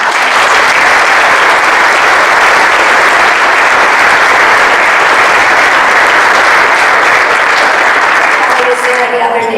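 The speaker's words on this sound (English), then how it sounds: "So how about a nice round of applause for our" Audience applause fills the room steadily and loudly, a dense even clapping from a large crowd that holds for several seconds without pause.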